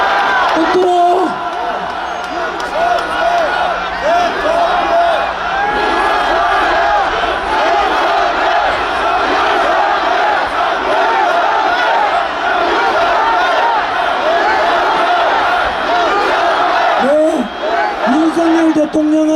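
A large rally crowd cheers for President Yoon Suk-yeol, a loud, sustained roar of shouting and chanting voices with rising whoops, near and continuous for the whole stretch.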